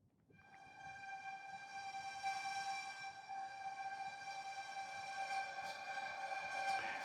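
Kayvon Violin Intimate virtual violin on its Shaking preset: a sustained, quiet bowed tone with a trembling, wavering texture and bright overtones, swelling slowly in loudness.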